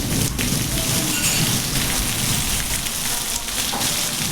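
A dense, close downpour of heavy rain falls in a Gujarat village. The steady hiss of drops hitting surfaces runs unbroken for a few seconds, with no voices.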